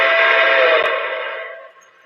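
A Mikado model steam locomotive's sound effects, a bright, loud whistle tone that holds steady and then fades out over about two seconds.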